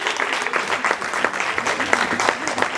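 A church congregation claps for God, dense and lively applause filling the room at close range and holding steady throughout.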